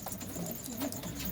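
Pigeons coo steadily in a loft at night as they are fed wheat, a soft continuous murmur of low, rolling calls close by with no talking.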